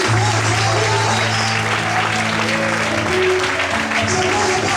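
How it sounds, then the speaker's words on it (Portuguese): Worshippers in a church service clap loudly and steadily for the Lord, a dense wall of crowd applause that runs the whole time over sustained organ-like music. "Aplauda Ele forte, aleluia."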